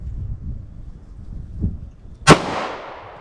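A single sharp 9mm pistol shot from a short 3.2-inch barrel cracks loudly and close, then echoes and rings as it decays. Low rumbling background noise comes before it.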